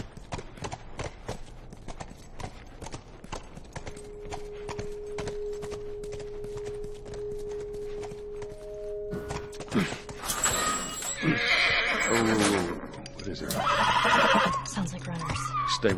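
In The Last of Us Remastered, steady hoofbeats clop along for several seconds, then a loud horse neigh and whinny rings out, followed by more snorting whinnies.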